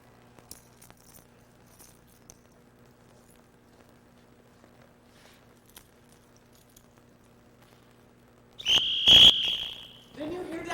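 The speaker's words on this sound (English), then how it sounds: "Didn't you hear that whistle?" After a long stretch of quiet room noise with faint taps, a loud, shrill whistle blast sounds near the end as an assembly call.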